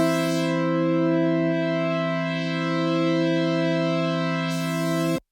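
An Arturia PolyBrute analog synthesizer holding a sustained, harmonically rich distorted tone through its second filter, loud and steady for about five seconds before stopping abruptly.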